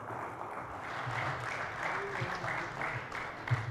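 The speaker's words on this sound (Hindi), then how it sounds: "आप पुरजोर तालियों में जनाब आदिल रशीद का खैर मकदम करें" Audience applause at an Urdu poetry gathering (mushaira) welcoming a poet to the stage, a steady wash of clapping across the whole stretch with faint voices mixed in.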